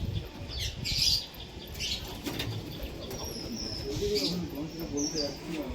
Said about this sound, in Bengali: হাতে খুব ছটপট করছে, ধরা হয় না পায়রা